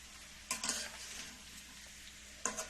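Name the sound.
stir-frying bitter gourd and potato with shrimp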